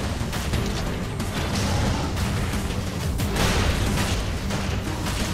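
Rocket launcher fire in the video game Saints Row 4 makes a dense, loud wash of booms and bursts, continuous and close with no clear gaps and no talk over it.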